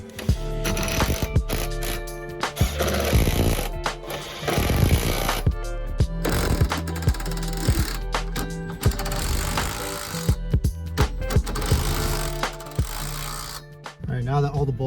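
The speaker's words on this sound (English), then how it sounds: "we're gonna go ahead and tighten down all the bolts for the mounting brackets" A 9/16 wrench ratchets as it tightens the roll bar mounting bracket bolts in a Mazda Miata, with clicking runs and metallic knocks close up and someone talking intermittently.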